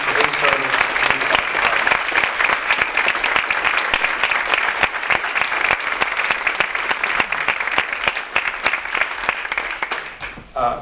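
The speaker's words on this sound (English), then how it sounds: "So ladies and gentlemen, for a round of applause" Sustained audience applause at a Veterans Day ceremony, dense steady clapping from a large crowd that carries through and fades near the end.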